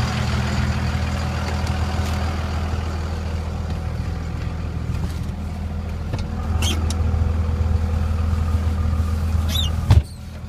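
A 2002 Dodge Ram with a Cummins diesel engine drives on a cold-weather test run, its steady low engine drone and road rumble continuing throughout, with a brief thump near the end.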